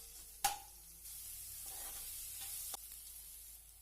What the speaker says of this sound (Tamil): வெங்காயம் நல்லா வதங்கினதுக்கப்புறமா அதில் 1 ஸ்பூன் அளவுக்கு இஞ்சி பூண்டு விழுது ஆட் பண்ணிக்கலாம்.